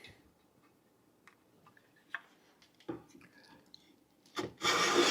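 A Buck Brothers smooth plane, set finer, shaves a wood surface in a few short, dry scraping strokes, then one longer, louder rasping pass at the close, all close by with no talk.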